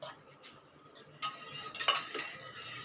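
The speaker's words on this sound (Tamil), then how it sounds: "நல்லா மிக்ஸ் பண்ணிடலாம்." A spoon stirs a strained coffee pudding mixture in a pan. Soft scraping and a few light metallic clinks come close by over a short, quiet stretch, with no speech.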